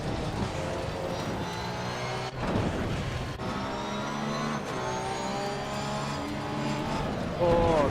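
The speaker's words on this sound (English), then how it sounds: "Oh, that green car just came across the track." Race cars in a racing video game roar past on the track with continuous engine drone and revving pitch sweeps, close and steady, one engine climbing sharply at the end.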